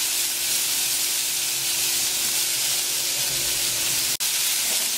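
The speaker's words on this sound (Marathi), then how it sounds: "आता याच्यात ना मटकी घालून तिला परतून घेऊ." Moth beans added to hot oil with turmeric sauté in a pan, giving a steady, even sizzling hiss close up that runs throughout, with one brief sharp click near the end and no speech.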